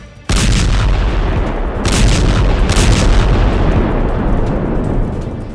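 Heavy booming blasts from Israeli strikes in southern Beirut, Lebanon: a sudden loud explosion followed by further rumbling bursts and sustained roaring, very loud and close, with no talk.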